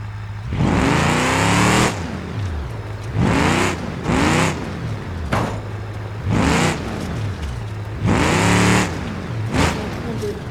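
A car drives along a mountain road, its engine swelling in repeated loud revving bursts with short lulls between them, and voices are faintly audible underneath.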